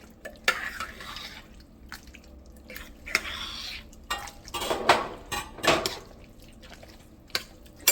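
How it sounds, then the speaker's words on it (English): A pot of red beans with sautéed sausages being stirred, giving soft, irregular scraping and wet clinks of a spoon against the pot, moderately loud and close, with no talking. "And then I'm going to give everything a good stir."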